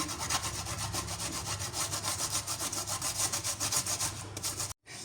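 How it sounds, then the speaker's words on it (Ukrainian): Garlic scraped on a hand grater in a home kitchen, a steady, fast back-and-forth rasping that carries on loud and close for about five seconds before breaking off abruptly. "У мене чеснодавки немає, тому візьмемо натремо на тертушці."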